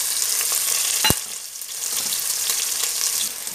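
Curry leaves, ginger and garlic fry in a pan for jeera rice, giving a steady, dense sizzle with one sharp utensil knock partway through and soft stirring after, no voices.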